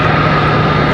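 An American Airlines Boeing 737-8 jet departing Charlotte Douglas International Airport, heard as a loud, steady, close engine roar that fills the whole moment with no voices.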